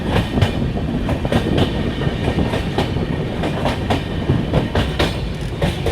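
Poorva Express passenger train running on tracks between Howrah and New Delhi, a steady loud rumble with rhythmic clickety-clack wheel beats over rail joints, heard from on board with no talk.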